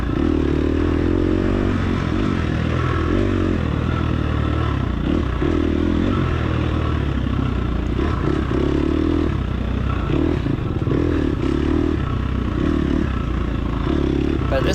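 A dirt bike engine held at steady throttle through ruts in a hot, dusty race, loud and continuous with a droning, slightly wavering tone and some rattling clatter.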